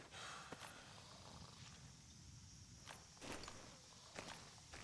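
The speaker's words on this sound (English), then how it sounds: "I hear footsteps." Soft footsteps in Metal Gear Solid V: The Phantom Pain: a few sparse, faint footfalls land irregularly over a low ambient rumble, with no talking.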